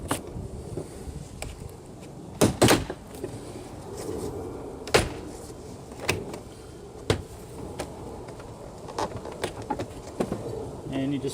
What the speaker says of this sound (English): the next process involves popping the door panel